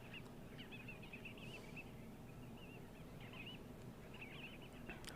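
Soft, chirping sandgrouse calls repeat in short bursts over a steady low rumble of background noise, fairly faint and distant.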